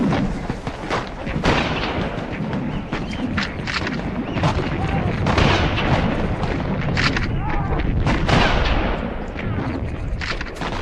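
Dense gunfire and artillery crash through a World War I trench battle at Gallipoli, a continuous barrage of sharp cracks and booming blasts over a rough, noisy background, loud throughout.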